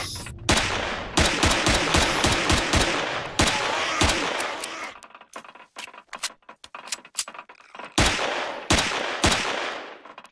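Gunfire in the Empyrion video game during an assault on an abandoned factory: loud rapid bursts of shots, a quieter scattered stretch, then more sharp bursts near the end.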